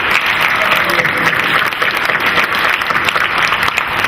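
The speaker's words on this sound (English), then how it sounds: "give yourselves a round of applause for the energy, the willingness to participate" Dense, steady audience applause fills a healthcare innovation conference hall, loud and close, with no break for the whole stretch.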